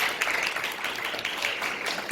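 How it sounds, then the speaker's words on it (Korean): A church congregation applauds steadily, a dense, even patter of many clapping hands lasting a couple of seconds. "감사의 박수를 한번 올리고 있습니다"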